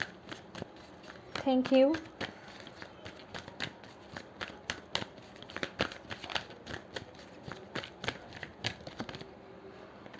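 Tarot cards being shuffled and drawn, a dense run of soft riffling flicks and snaps through the whole stretch, close and fairly quiet, with someone speaking briefly over it.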